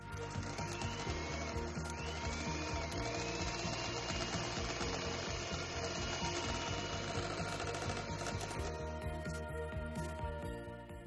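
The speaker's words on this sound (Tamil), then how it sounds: "இப்போ வந்து நல்லா ஹை ஸ்பீடில் இதை பீட் பண்ணி எடுத்துக்கலாம்." An electric mixer beats butter-based vanilla sponge cake batter at high speed, giving a steady, continuous motor whir with no voices.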